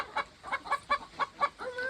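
Chickens on a farm clucking in a quick series of about seven short, close clucks at an even rhythm, clear and alone.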